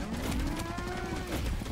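Bulls mooing in a video game, a long low drawn-out moo that slides slightly upward, loud and close over a constant noisy game background with no speech.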